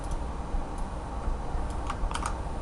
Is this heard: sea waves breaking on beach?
no